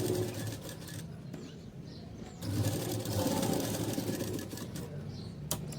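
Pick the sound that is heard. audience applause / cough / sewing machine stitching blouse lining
sewing machine stitching blouse lining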